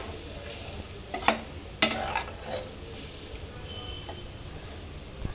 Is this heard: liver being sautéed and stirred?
yes